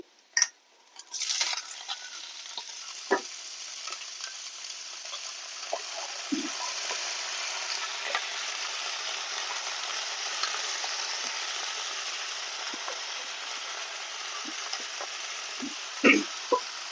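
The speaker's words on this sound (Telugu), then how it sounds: "ఇప్పుడు తోటకూర వేసేసుకుందాం సన్నగా తరిగి కడిగి ఆరబెట్టుకున్నది" Finely chopped, washed and dried amaranth leaves frying in a pan give a soft steady sizzle, with occasional sharp clinks and scrapes of a stirring spoon, close and moderately quiet.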